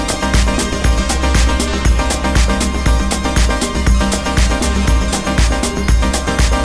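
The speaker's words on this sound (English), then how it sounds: "And I had done this 4 on the floor kind of," A four-on-the-floor dance patch on a modular synthesizer pounds out steady kick beats under dense, bright electronic layers, loud and continuous throughout.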